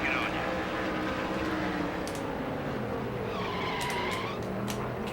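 Race car engine in Nascar Thunder 2003 at Watkins Glen, a steady loud drone with shifting pitch from several cars, brief tire squeals and skids, running continuously throughout.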